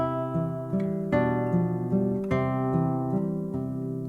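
A classical guitar picks the melody of Giuliani's Allegretto Op. 50 No. 12 quietly and close by, with extra finger pressure bringing the melody notes out over gently arpeggiated accompaniment in a steady, flowing rhythm.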